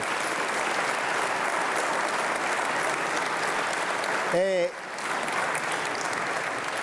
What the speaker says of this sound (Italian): Io vorrei farle un bel saluto, un bel applauso.